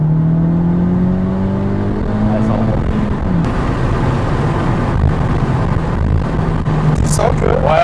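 A Honda Civic Type R FK8 pulls hard in fourth gear, its engine note climbing steadily in pitch as it accelerates from inside the cabin, with road and wind noise and people talking over it.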